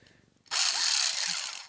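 An Ingersoll Rand Redi-Ratchet air ratchet runs in one bright, loud burst of over a second, a fast buzzing whir that begins sharply after a quiet moment and then tapers off.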